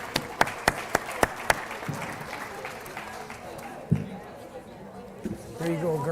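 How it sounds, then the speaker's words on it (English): Scattered clapping at a state fair food tasting for a strawberry jello cake recipe: several sharp individual claps at first, then thinner applause mixed with crowd chatter and nearby voices talking. "So round of applause for that recipe."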